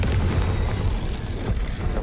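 Confringo spell explosion in Hogwarts Legacy, a short, deep booming blast with rumbling debris filling about two seconds at close range.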